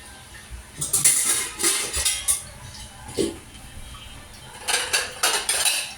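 A knife taps and scrapes on a board and dish while boiled pork is chopped for dinuguan, with irregular close clinks and knocks in short clusters and no talking.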